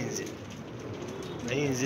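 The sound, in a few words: Iraqi tar pigeon, a male flying pigeon, cooing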